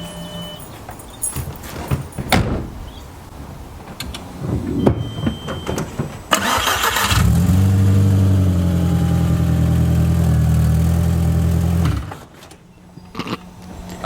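A nearby car engine runs at a steady idle for about five seconds while the car is moved, then cuts off abruptly. Scattered clicks and handling noises come before and after.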